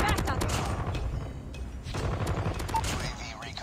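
Sustained automatic gunfire from a Holger 26 assault rifle in Call of Duty Mobile, loud rapid bursts with a short pause midway before the shooting resumes.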